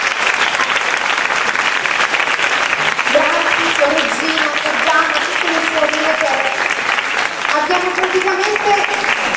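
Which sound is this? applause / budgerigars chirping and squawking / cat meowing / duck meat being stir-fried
applause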